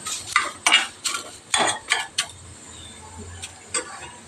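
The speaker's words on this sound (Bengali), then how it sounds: "এই দেখো শুকনো খোলায় নিম পাতা ভাজছি" Neem leaves dry-roasted in an empty pan with no oil, giving a series of soft scraping, stirring clatters with light crackle, close and moderately quiet.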